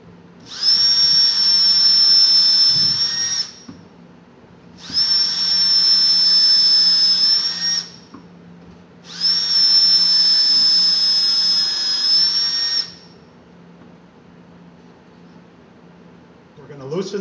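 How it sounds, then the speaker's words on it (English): A drill bores holes in a workpiece, three loud sustained high-pitched whining bursts of about three seconds each, separated by quieter pauses with a low hum underneath. "we're going to drill 2 more holes from the 2 far right side"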